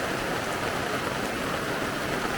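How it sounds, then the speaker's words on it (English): Heavy rain pours onto a caravan awning along the Gibb River Road, a dense steady hiss of drops drumming close and continuous with no voices. "Fair bit of rain coming off the awning"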